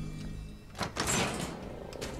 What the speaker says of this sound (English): Open the door for me, please!